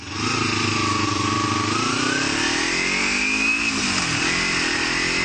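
A 250cc motorcycle engine idles steadily up close, its tone rising and falling slightly as the revs shift, loud and continuous.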